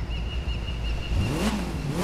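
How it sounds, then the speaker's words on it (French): A Volkswagen Golf GTI engine in the video game The Crew 2 revs briefly and rises in pitch over a low steady drone, sounding synthetic and close, with no talking. "Vas-y, on va s'écouter un petit peu le bruit de la voiture."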